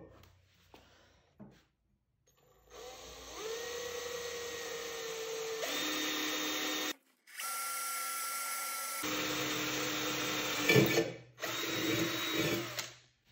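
A power drill bores bat pin holes into a pottery wheel head, whining loudly in long sustained bursts with brief pauses between runs and pitch shifts as pressure on the bit changes.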